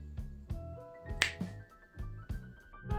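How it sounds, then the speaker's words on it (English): A single sharp finger snap, close and crisp, stands out midway through a quiet room tone with low background thumps and no talking, right before a French press coffee demonstration. "I'll snap my fingers"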